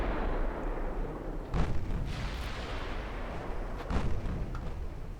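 Heavy 15-inch naval guns fire on cruisers in a naval battle video game. A dense, continuous rumble of gunfire fills the scene, with two louder booming blasts standing out.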